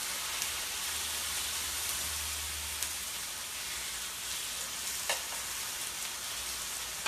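Portobello mushrooms frying in a pan, a steady close sizzle and crackle like light rain, with a few faint clicks and a low hum early on.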